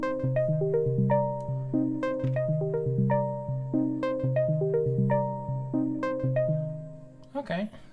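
Electric piano preset called Extra knock EP from a KORG Wavestate/opsix plugin plays a bouncy repeating pattern of short percussive keyed notes with bright attacks, clear and close, ending with a brief noisy burst.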